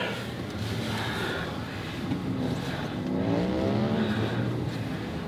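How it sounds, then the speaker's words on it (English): Cars roar past fast and close, engines whooshing and revving over steady road noise, one vehicle after another with no gaps. "I've never seen so many cars move so fast."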